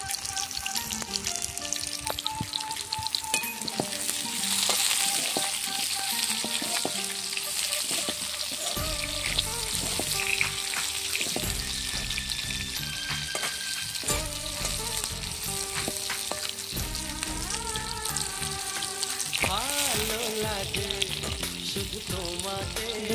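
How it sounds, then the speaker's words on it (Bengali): Pointed gourd (potol) with a little turmeric fries in a pan, a constant close sizzle broken by stirring scrapes, while music plays underneath. "দেখতেই পাচ্ছেন পটলটা প্রায় ভাজা হয়ে এসছে"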